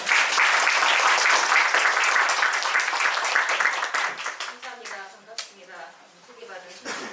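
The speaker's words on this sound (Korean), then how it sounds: "따뜻한 박수를 맞으시기 바랍니다" An audience at a Korean university classics lecture applauds to welcome the professor, loud dense clapping that holds steady for about four seconds and then thins out and fades into scattered claps.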